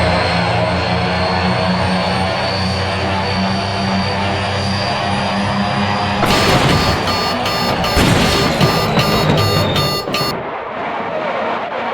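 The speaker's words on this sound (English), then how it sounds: "Plane." A plane's engine drones steadily in BeamNG Drive, a loud continuous aircraft hum with a layer of rapid rattling and clattering joining partway through before it thins out near the end.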